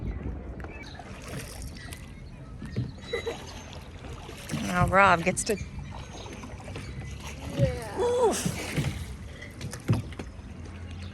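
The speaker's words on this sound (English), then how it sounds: "So are you gonna row us back to the boat?" A dinghy is rowed back toward a sailboat, with soft water splashes and oar strokes at close range under wind noise and people talking.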